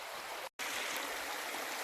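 A forest river runs steadily over gravel and pebbles, a dense broadband rush heard up close with one brief cut to silence partway through.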